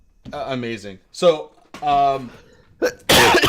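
Someone speaks briefly, then a single sharp, loud sneeze bursts out at the end.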